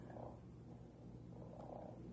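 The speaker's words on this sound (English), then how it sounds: "You hear him purring?" A Joy for All robotic pet cat purrs softly in a steady, low rumbling rhythm, close by, with no talking over it.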